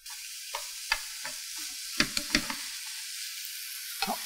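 Bamboo shoot filling for Taiwanese meatballs being stir-fried in a pan, a steady hiss of sizzling with occasional spatula scrapes and clacks against the pan, close and moderately loud, no talk.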